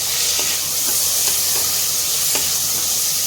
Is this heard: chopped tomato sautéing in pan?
yes